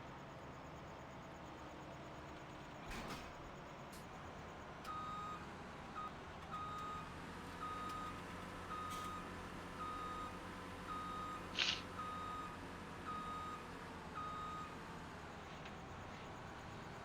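A truck in a Farming Simulator 2017 harvest on a farm in Osceola, Wisconsin, sounds its reversing alarm: evenly spaced beeps repeat about once a second over a low engine drone, with a few faint clicks.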